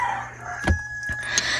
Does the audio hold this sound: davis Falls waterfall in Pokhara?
no